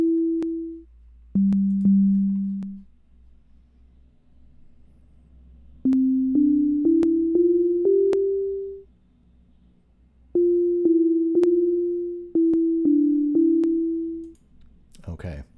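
A simple melody plays as pure synthesized sine-like tones coded in Sonic Pi, each note held briefly and fading, in slow phrases with short gaps and a few faint clicks.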